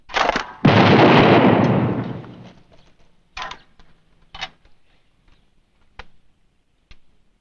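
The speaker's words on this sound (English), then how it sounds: "It's pretty good shooting." Gunshots ring out in a Rome setting: one loud blast with a long decaying tail, then several sharper, quieter shots spaced about a second apart, no voices.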